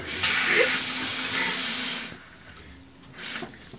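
Tap water runs loudly into a pink cup for about two seconds, then stops, followed by a brief quieter splash or trickle near the end.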